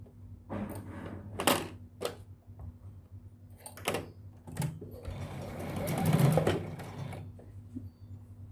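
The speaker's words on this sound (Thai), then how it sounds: "เราก็เย็บริมเล็ก" A sewing machine stitches a narrow hem on thin fabric in short, separate bursts of quiet mechanical whirring, with brief pauses and handling noises between runs and a longer stretch of stitching near the end.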